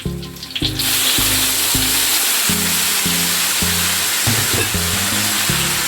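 Ground spice paste sizzling loudly in a hot pan while being stirred, a steady close frying hiss throughout with a clanging, music-like tonal bed underneath.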